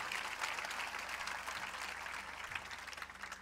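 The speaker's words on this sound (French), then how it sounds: "On peut les applaudir quand même" Audience applause at a university graduation ceremony, a steady dense clapping spread across a large hall, moderately faint and continuous throughout with a low hum underneath.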